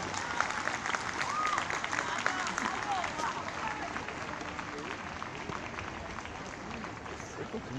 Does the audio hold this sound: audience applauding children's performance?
yes